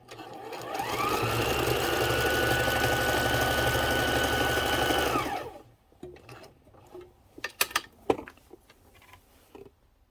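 A repaired Kenmore sewing machine runs a regular stitch at long stitch length, a steady close mechanical whir for about five seconds before stopping, followed by scattered clicks and handling knocks.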